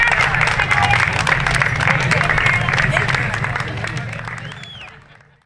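A large crowd applauds loudly and continuously, the clapping fading away toward the end.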